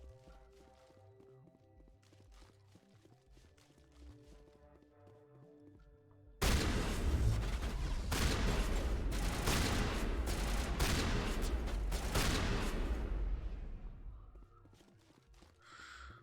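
Shotgun fire in the video game Mass Effect, a loud dense burst of rapid blasts and impacts that lasts several seconds, set between quieter stretches of game music and ambience.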